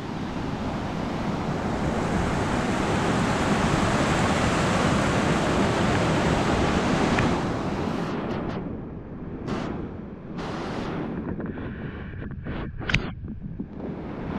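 A small waterfall in Pattison State Park rushes with steady broadband water noise close by, then thins into trickling, splashing flow through little channels, with no talking.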